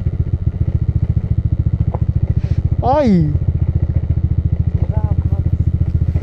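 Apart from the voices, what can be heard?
motorcycle riding on rough off-road trail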